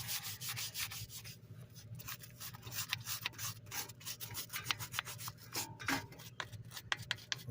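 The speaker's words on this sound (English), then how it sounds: "Next, you're gonna get your wire brush" A wire brush scrubs the brake caliper of a Ford Escape during front pad and rotor work, making a steady close rasping scrape with repeated short strokes and no talk.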